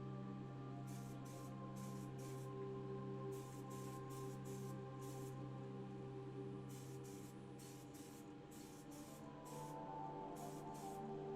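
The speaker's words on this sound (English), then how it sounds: "The body and the bonnet are then sprayed in flame red." Spray paint hisses onto a die-cast Corgi Aston Martin DB4 model body and bonnet in flame red, coming as a run of short, even bursts with brief pauses between them, close and steady over a faint background hum.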